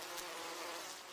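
Honeybees buzz at their hive, a dense, continuous swarm hum heard close and steady for a brief moment.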